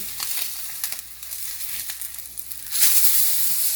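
Salmon fillet searing in a frying pan, a steady close sizzle with crackling pops that swells louder toward the end.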